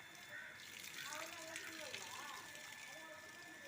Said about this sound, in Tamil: எங்கள் அக்காவும் தண்ணி அடிச்சிட்டு இருக்கப்போ